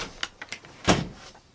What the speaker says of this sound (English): Dog closed the door.